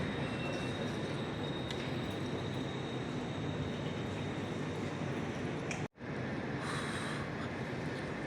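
A train passes through a station on a cold day, producing a steady, loud broadband rumble with a thin high whine. After a brief sharp cut, the rumble resumes.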